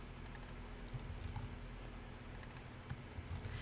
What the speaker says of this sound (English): I'm going to type the word double.